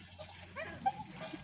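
A dog gives faint, short yips and whimpering barks in a village setting, a few quick soft calls against a quiet background.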